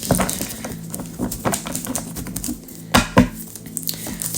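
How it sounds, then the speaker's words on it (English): Tarot cards being shuffled by hand during a reading, giving a run of quick papery riffles and soft taps close by, with sharper slaps near the middle and a low hum underneath. "Let me shuffle this a little bit more."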